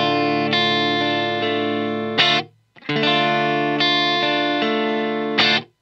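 Clean, dry electric guitar played through a Line 6 POD GO with light compression: two sustained strummed chords ringing evenly, each ending in a brief scrape before cutting off, with no voice.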